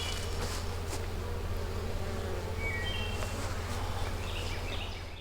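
Honey bees buzz steadily inside a nuc hive holding honey and capped brood, a dense continuous hum close by with no talking.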